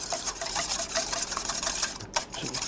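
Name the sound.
whisking eggs in a bowl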